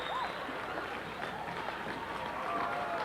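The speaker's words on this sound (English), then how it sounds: "First Baptist crowd is extremely jubilant" A First Baptist home crowd cheers at a 1975 basketball semi-final win over Wilson Hall, a steady, distant wash of noise from the stands with a commentator talking over it.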